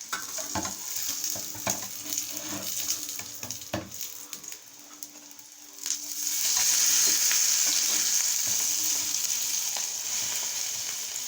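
An Egyptian omelette sizzles in a pan after being flipped, a close crackling fry with bursts of spattering, a few clinks of a utensil, and a louder steady hiss in the second half.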